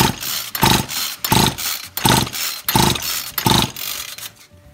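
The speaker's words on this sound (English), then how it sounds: "So we'll crank it over." A small engine is cranked over during a compression test, with about five rhythmic, loud whooshing pulls in quick succession, close by.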